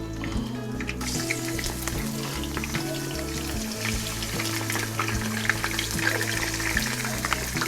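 Shallot frying in hot oil with herbs, a loud, continuous crackling sizzle with bright spitting pops scattered throughout, and a low background hum underneath.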